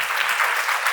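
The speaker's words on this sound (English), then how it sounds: "Ladies and gentlemen, a round of applause" An audience at the Bharatheeyatha 2023 celebration in Connecticut applauds during a citation presentation, a dense, steady burst of clapping from a crowd that lasts the full second.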